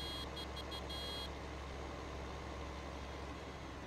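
Tractor reversing beeps in Farming Simulator 15, a short run of rapid high beeps at the start over a steady low engine drone that continues alone afterwards.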